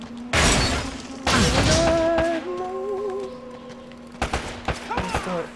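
Gunfire in the action game Uncharted: Drake's Fortune: loud bursts of rapid shots, a long volley at the start, a second one soon after, then a cluster of sharper single cracks near the end, with a faint voice underneath.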